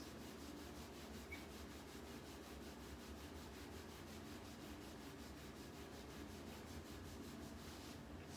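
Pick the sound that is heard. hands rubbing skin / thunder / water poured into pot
hands rubbing skin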